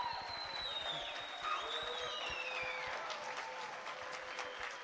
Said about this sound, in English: can we just give one big, big round of applause for the Shark and all the other